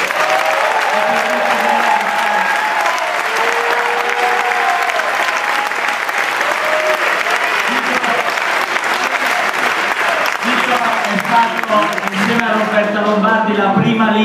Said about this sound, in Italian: Voglio chiedervi un applauso per Vito Crimi.